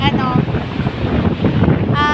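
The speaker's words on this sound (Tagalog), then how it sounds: "So, ganyan kalakas ang hangin." Strong wind at the shore buffets the microphone in heavy rumbling gusts, with faint surf of big waves behind and no speech over it.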